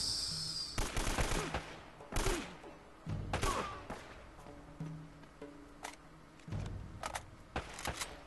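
Gunfire in Uncharted: Drake's Fortune, heard as a series of sharp, loud shots and short bursts spaced irregularly, with quieter thuds and game sounds between them.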